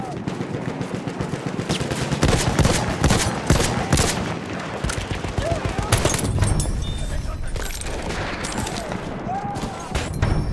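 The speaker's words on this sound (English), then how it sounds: "Enemy machine gun!" Enemy machine gun fire in Battlefield 1, sustained loud automatic bursts mixed with other weapons and explosions in a chaotic battlefield, with shouted voices under the din.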